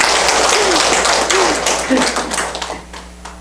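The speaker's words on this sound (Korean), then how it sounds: "박수 한번 주시죠" A crowd claps in a dense burst of applause that gradually thins and fades, with a voice briefly audible over it.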